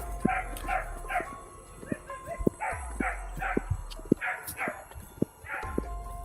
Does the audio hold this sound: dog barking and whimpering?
yes